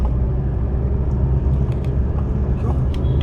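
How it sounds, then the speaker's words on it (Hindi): Delhi road traffic rumbles steadily with low engine drone from passing vehicles, a dense continuous roar with a few faint higher sounds like distant horns or clatter mixed in. "ये दिल्ली का ट्रैफिक है।"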